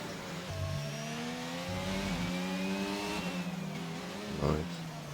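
Race car engines from the F1 22 video game at the Singapore circuit, a steady mid-pitched drone with rising and falling revs, a brief louder burst near the end, under faint commentary.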